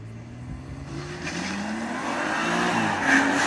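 A car, likely a BMW, runs a timed slalom course at Liedolsheim, its engine note rising and falling steadily through gear changes and turns, heard from a distance without speech.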